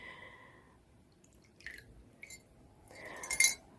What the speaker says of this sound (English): I'm going to pour some in the bottom of this